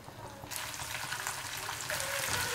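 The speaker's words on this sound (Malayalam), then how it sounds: "ഇനി ഇതിലേക്ക് നമുക്ക് നമ്മൾ നേരത്തെ മാരിനേറ്റ് ചെയ്ത് വെച്ച ചിക്കൻ കഷ്ണങ്ങളില്ലേ ഇത് ഓരോന്നായിട്ട് ചേർത്ത്" Marinated chicken pieces go into hot oil to shallow fry for restaurant-style garlic chicken, and a loud, close sizzle bursts up and keeps crackling steadily.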